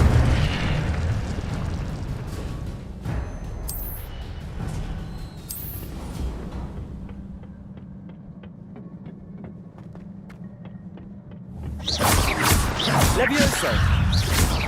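Incendio fire spell cast in Hogwarts Legacy, bursts of whooshing flame and booming impacts that die down to a quieter stretch before a loud fiery eruption at the end, with a voice talking during the clip.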